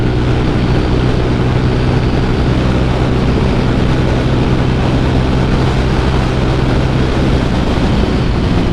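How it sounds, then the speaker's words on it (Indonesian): Strong wind roars past a rider on a Honda Vario 150 motorcycle along a winding road, a loud, steady, unbroken rush that fills the whole stretch with no talking. "Ini anginnya kenceng banget, astaga."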